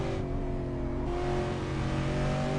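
V8 Supercar at Phillip Island racing circuit, its engine droning steadily with audible short shifts, moderately loud and continuous with no voices.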